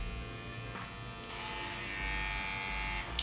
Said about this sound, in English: Oster fast feed with the ceramic blade